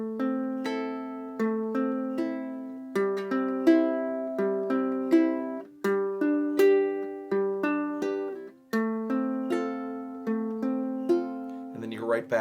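Ukulele fingerpicking the intro pattern of a song, plucking string 4, string 3, then strings 1 and 2 together in a steady repeating sequence of clear, close, bright notes played alone.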